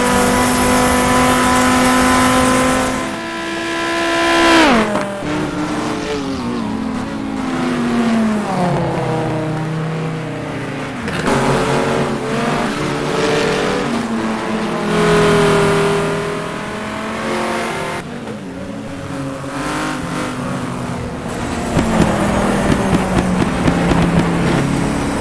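A Viper race car in GTR2 is driven flat out, its engine revving high and dropping through repeated gear changes and corners, loud and continuous, with no talk.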